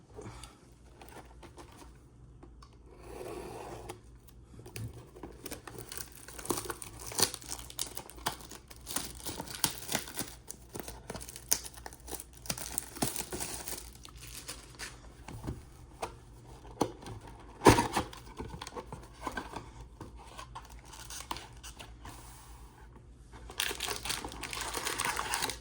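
Foil packs of 2025 Score football trading cards being ripped open, with long stretches of close crinkling, crumpling and tearing plus scattered sharp rips and card shuffling.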